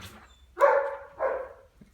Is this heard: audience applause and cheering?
no